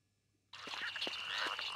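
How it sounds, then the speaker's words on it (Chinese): A frog croaks in the horror video game Yomawari 3: after a brief hush, a close, steady run of croaking starts suddenly and holds through to the end. "青蛙的声音。"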